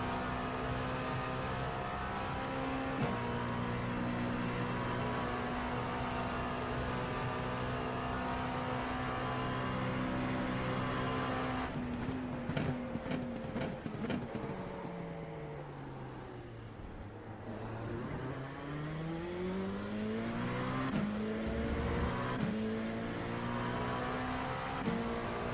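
Hypercars racing in iRacing, a simulated engine note that is steady, then dips through a downshift and climbs back, with a fluttering burst of shifts in the middle, moderately loud with no talk.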